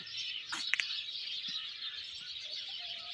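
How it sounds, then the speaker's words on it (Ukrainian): Sparrows chirp steadily in a dense outdoor chorus in a garden with bamboo, with a few sharper, louder calls near the start standing out over the continuous twittering. "Хочу зараз показати горобців."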